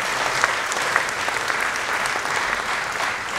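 Steady, dense applause from a large audience at the opening ceremony of the 2019 FFAP French magic federation congress, filling the room evenly throughout with no voices standing out.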